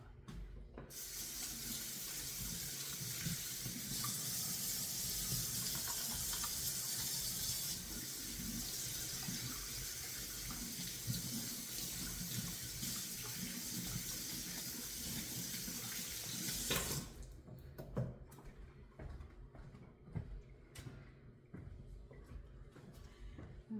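A kitchen tap runs steadily while hands are washed, a constant close splashing hiss that stops abruptly, leaving light clatter and handling noises.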